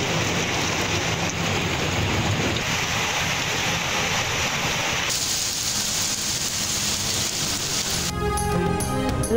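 Heavy downpour in Lahore pours as a loud, dense, continuous hiss, the scene changing partway through before music comes in at the very end.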